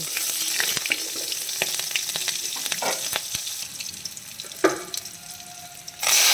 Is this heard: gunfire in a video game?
no